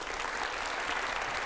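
Applause from a studio audience at a televised interview show: a dense, steady wash of many hands clapping, sustained at even loudness for the whole moment with no voices on top.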